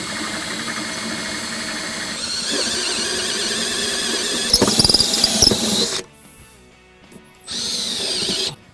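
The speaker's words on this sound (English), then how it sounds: "drill these things out" A power drill whines and grinds through a steel Jeep Wrangler rear fender, running steadily with a squealing burst, then stopping briefly before spinning up again.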